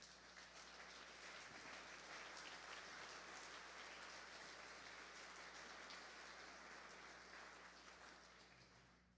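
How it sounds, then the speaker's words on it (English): Sustained applause from a large audience at a civic event honoring partner utilities workers, a dense, even wash of clapping that holds steady for several seconds before easing off slightly at the end. "I want everybody to give them a huge round of applause"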